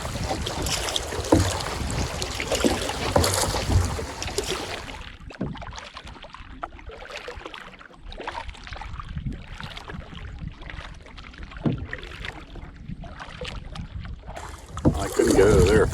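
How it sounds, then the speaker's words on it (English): A small canoe is paddled on the French River, with wind buffeting the microphone at first, then a series of soft, rhythmic paddle strokes and water swishes close by, before the wind rises again at the end. "Paddling my little canoe here with millionaires and their yachts."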